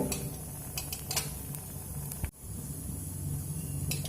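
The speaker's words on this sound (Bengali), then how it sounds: "এখানে আমি তিনটে লঙ্কা দিয়ে দিলাম লঙ্কাটা লো ফ্লেম করে ভেজে নেব" Three green chillies frying over a low flame in hot mustard oil, a soft continuous sizzle and hiss with a brief pan knock, nobody talking.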